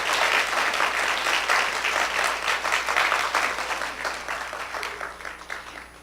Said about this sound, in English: One more round of applause for all the Bible bowlers and helpers.